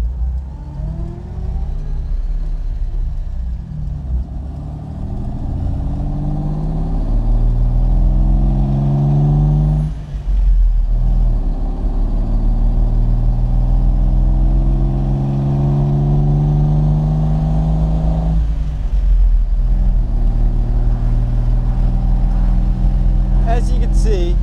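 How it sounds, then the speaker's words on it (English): A 1957 Lancia Aurelia with a 2.5-litre V6 accelerates along a farm road, its engine droning loud and close as it climbs through the gears, pitch rising and dropping at two shifts, and someone talks over it. "we'll stretch this Lancia's legs on the farm road"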